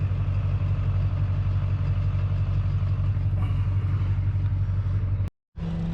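A Duramax diesel pickup engine rumbles in a steady, loud low idle as the truck drives up onto a trailer, with no talking, before the sound briefly drops out near the end.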